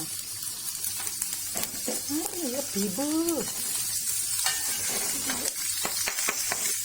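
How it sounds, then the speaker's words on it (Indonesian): Garlic, shallots and onion sizzle and crackle in hot oil in a pan, with a steady frying hiss, scattered spatula scrapes and a few tonal squeaks midway. "Kalau udah panas begini, kita masukkan bawangnya ya. Masukkan bawang putih, kemudian bawang merah dan bombaynya."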